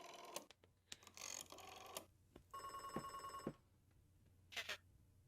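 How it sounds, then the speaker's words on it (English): A telephone rings in the video game Beacon Pines, with short bursts of electronic ringing separated by gaps, bright and clear against a quiet backdrop with a faint steady hum, no talk. "Just making a phone call."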